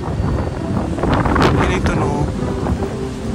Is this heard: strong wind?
yes